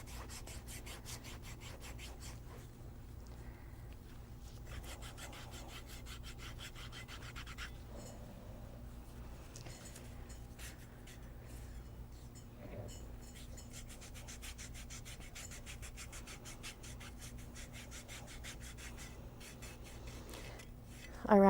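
A foot file's medium grit side rubbing around the skin of a heel, a steady, faint, rhythmic scraping that continues throughout.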